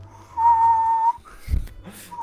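A voice imitates a nose whistle: a thin, steady, high whistled tone held for under a second, then a breathy rush of air and a brief trailing whistle.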